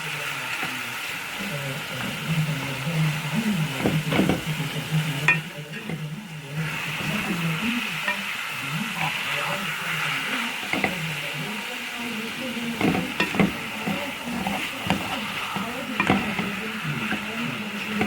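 Meat and onion stirred and frying together in a pan for moussaka, a steady close sizzle broken by repeated scraping stirs, with faint voices in the background.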